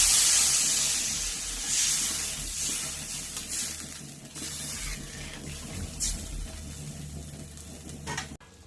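Water poured into a hot pan of turmeric-spiced liquid for a sour shol fish curry with mango, giving a loud steamy hiss that eases into a steady sizzling simmer, with a few scrapes and clinks near the end.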